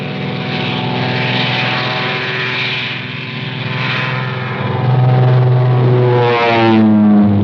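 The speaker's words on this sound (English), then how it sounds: "hundreds of Royal Air Force planes engaged in a non-stop aerial offensive over occupied Europe" Royal Air Force propeller warplanes of 1943 drone overhead in a loud, steady, throbbing roar, and the engine pitch swells toward the end.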